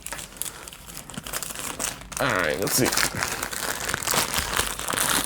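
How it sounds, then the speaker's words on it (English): Crinkly plastic of a $20 anime-convention mystery bag being torn open by hand without scissors, a loud ripping and crumpling burst partway through, with a person talking over it. "I don't got scissors, so we're just gonna rip it old style"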